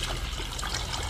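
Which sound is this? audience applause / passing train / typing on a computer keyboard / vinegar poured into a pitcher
vinegar poured into a pitcher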